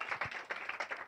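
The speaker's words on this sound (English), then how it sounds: "Let's have a round of applause for the Cleveland Clinic." Audience applause at a functional medicine forum, brief uneven clapping with distinct nearby hand claps over a thin crowd wash, about a second long.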